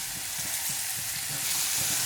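Chopped spinach going into a spice mixture in a pan over a low flame, giving a steady broadband sizzle with soft, repeated stirring scrapes underneath, close and even throughout.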